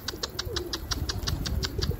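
A Telli Kelebek pigeon takes off and flies away, its wings beating in a quick, steady rhythm of about a dozen close flaps, with faint cooing and no talk.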